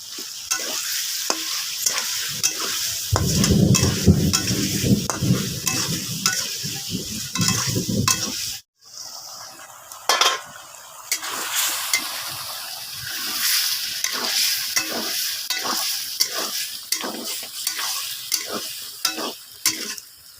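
Potatoes and spices fry in a pan with coriander paste for aloo dum, a close, busy sizzle broken by repeated scraping and stirring strokes, with a brief pause partway through.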